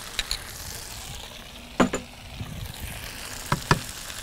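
Fried rice is stirred in a sizzling pan, with a steady frying hiss broken by a few sharp scrapes and clanks of the utensil against the metal.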